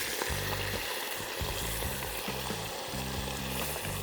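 Pork pieces searing for pilaf in a pot on maximum heat: a loud, continuous close-up sizzle and crackle of frying fat, with occasional stirring scrapes and no voices.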